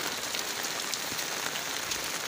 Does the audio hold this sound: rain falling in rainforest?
yes